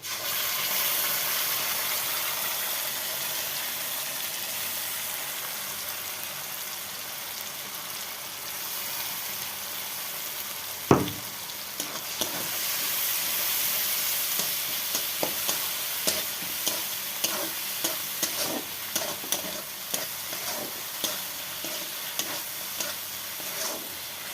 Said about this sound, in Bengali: পেঁয়াজটা ভাজা ভাজা হয়ে গেছে। তো এখন আমি বেটে রাখা মশলাটা দিয়ে দিচ্ছি।